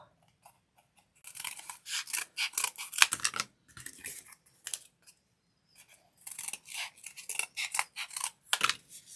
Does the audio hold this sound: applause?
no